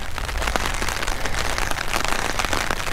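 Steady rain falls on a gray, overcast day with flooding, making a dense, continuous hiss with scattered close drop patters throughout and no voices.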